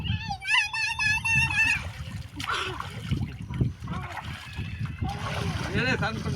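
Water splashes and sloshes as someone bathes in a river, with close splashing running under voices that talk throughout, along with a high, wavering cry near the start.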